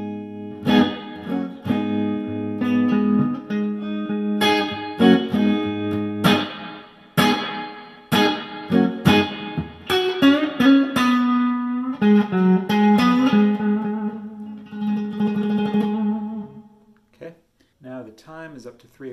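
Electric guitar played through an Electro Harmonix Holy Grail Max reverb pedal with its time knob at the middle, strummed chords and single notes ringing out with a smooth reverb tail, loud and close, no voices.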